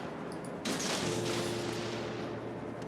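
Ship guns in World of Warships, aboard the USS Phoenix, fire a heavy volley that lands as a sudden loud boom partway through. A low rumble rings on after it over a steady hum.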